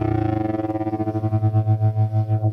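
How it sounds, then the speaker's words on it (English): Manson MB-1 electric guitar held on a sustained, distorted chord through a tremolo effect, its volume pulsing rhythmically and the pulses slowing as the note rings out alone. "I could kind of add to that a tremolo rate as well."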